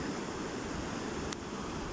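Strong river current rushing steadily, a continuous broadband wash of water close by with a faint click partway through.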